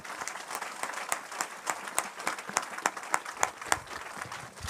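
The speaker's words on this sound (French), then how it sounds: "On acclame le Seigneur." A church congregation applauds together in praise, a dense, steady patter of many hands clapping at close range, with sharper accented claps standing out in a loose rhythm throughout.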